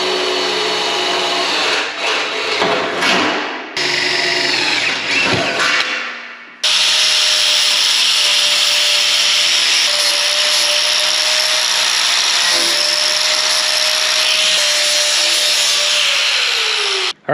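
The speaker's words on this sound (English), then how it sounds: "I've drilled all the holes and I ground down all the welds, just enough to make them smooth" Drilling holes in a sheet metal floor for a custom 1930 Dodge truck, then grinding down the welds: short bursts of drilling give way to a long, loud, steady grinder whine that cuts off abruptly at the end.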